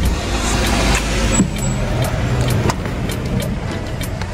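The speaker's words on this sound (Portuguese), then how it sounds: "que vem um carro aqui." A car passing close along a narrow town street while shopping, a steady loud engine rumble and tire noise filling the whole stretch with no talk over it.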